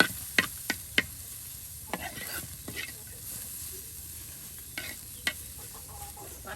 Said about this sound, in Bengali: এই যে আপনার তেল দিয়ে কিন্তু ভেজে নেওয়া হচ্ছে পেঁয়াজ রসুন